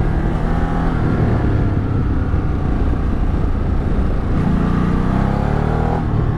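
A 240 kilogram, top-heavy motorcycle with a 20 liter tank ridden on a California road gives a loud, steady engine drone blended with rushing wind noise, constant and close throughout, with no one speaking.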